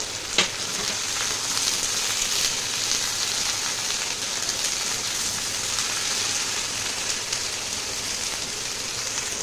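Eggplant and potato pieces with ground cumin, coriander, turmeric, salt and chili powder frying in a pan on a gas stove, a loud steady hiss of crackling oil, close and continuous, with a sharp stirring scrape near the start.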